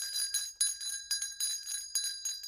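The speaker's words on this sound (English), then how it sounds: "Oh, that's a really cute little bell. Did you hear the sound of it?" A small toy bell rings in a quick series of bright, tinkling strikes, several jingling bursts in a row, close and clear with no voices.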